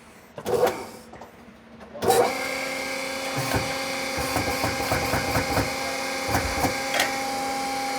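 Powered press driving a ball joint into a used side-by-side A-arm: a couple of thumps and a clunk, then a motor starts and whirs steadily with rattles and knocks close by.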